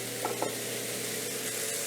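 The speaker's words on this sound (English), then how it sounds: "listen to the sizzle" Steady broadband sizzling hiss of burgers frying on a hot George Foreman electric grill, continuous and close, with a couple of faint clicks early on.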